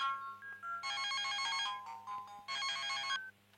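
A mobile phone ringtone plays in two loud melodic bursts with a short gap between them, in a scene at a vegetarian restaurant wash station, with no talking over it.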